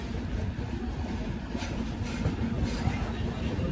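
A Mithila Express sleeper-class train crossing a river, a steady low rumble with faint rhythmic clatter heard from inside the carriage.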